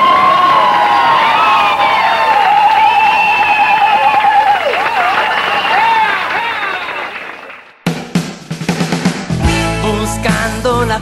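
Crowd applause and cheering with whistles and shouts greet a Mexican rock band at a live show, loud and sustained for several seconds before abruptly giving way to music.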